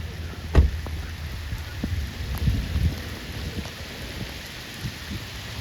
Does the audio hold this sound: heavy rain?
yes